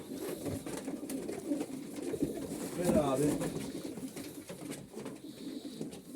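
Pigeons cooing in a loft among a keeper's birds, soft repeated calls close by under ongoing men's conversation.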